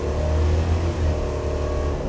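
1967 Chevrolet Chevelle SS engine revving nearby, a loud deep throaty roar that surges and eases across a couple of short swells, with no talk over it.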